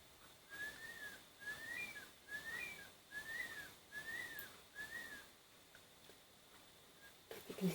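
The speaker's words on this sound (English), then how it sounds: "You can hear the curlews screeching outside." Curlews call outside in a repeated series of thin, rising-and-falling whistled cries, evenly spaced about every half second, faint and distant against quiet room ambience.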